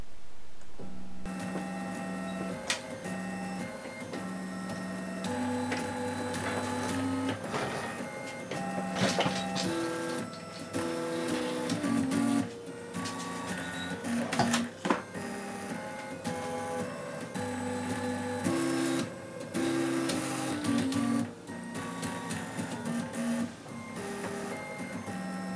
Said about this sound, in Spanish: le dais a imprimir, a tocar la marcha imperial